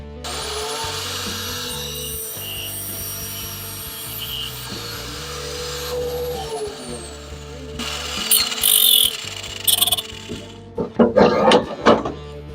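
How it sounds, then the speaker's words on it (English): A pry bar works a steering column bearing off the steering shaft of a Squarebody K5 Blazer. Steady metallic scraping and grinding runs under a continuous motor hum, ending in several louder clanks and knocks. "Now that we're this far, I can go back to using my pry bar to finish working this off."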